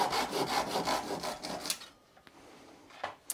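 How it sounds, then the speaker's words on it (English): A fine-toothed Japanese cut-off woodworking saw trims the end off a piece of wood in quick, even back-and-forth rasping strokes, close and crisp, then stops, leaving a few faint clicks and handling taps. "we're just gonna use this little Japanese cut-off saw, really fine woodworking saw, and we can just trim the end off"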